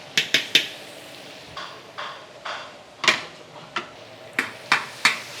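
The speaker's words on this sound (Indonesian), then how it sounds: "Langsung kita tumis hingga wangi." Garlic being stir-fried in a large pan for a big batch of butter-sauce chicken, with sharp metallic clanks of a spatula against the pan repeating irregularly over a faint background hiss.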